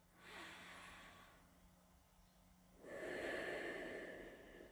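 A deep, slow breath taken during a morning yoga flow, a steady inhale followed by a fuller, louder exhale, close and alone with no talking.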